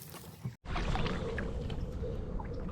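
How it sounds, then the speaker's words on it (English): A kayak paddled along a river, with a steady rush of water and splashing that starts abruptly after a brief silence and holds at a close, even level with no talking. "So we're just paddling along"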